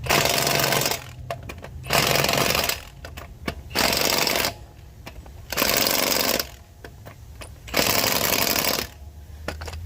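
Power impact tool tightening the lug nuts on a 2021 Ford Ranger wheel during a tire change, five loud rattling bursts of about a second each separated by brief pauses, close by with no talk.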